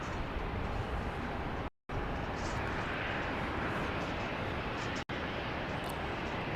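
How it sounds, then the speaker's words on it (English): A Southwest-style Boeing 737-800, Flight 2401 from Salt Lake City, passes over downtown on approach to Dallas Love Field, its engines a steady broadband jet roar with two brief cuts in the sound. "Flight 2401 from Salt Lake City, a 737-800, is coming in over downtown"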